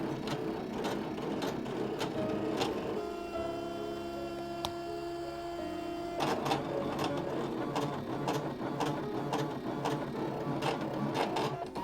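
A Brother ScanNCut cutting machine works through paper bookmarks with steady mechanical whirring and a rapid ticking carriage rhythm, pausing briefly into a quieter hum before the cutting motion resumes, close and continuous.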